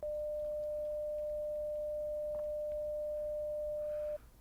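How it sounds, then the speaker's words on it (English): A steady, pure 600 Hz test tone holds for about four seconds at moderate level, then cuts off abruptly. "Moving on to 600 hertz."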